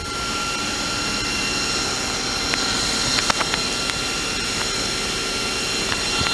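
The live tool on a 2004 Nakamura Tome WTS150 lathe spins at 3,000 RPM, making a loud, steady high whine with a broad hum underneath and occasional faint clicks, continuous and close, with no one speaking.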